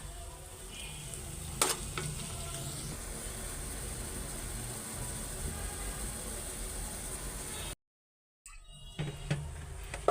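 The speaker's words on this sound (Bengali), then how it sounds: "তারপরে নুডলস রান্না করি।" Noodles and egg fry and get stirred in a home kitchen pan, with a steady sizzle, occasional scrapes and clanks of the utensil, and a brief silent break near the end.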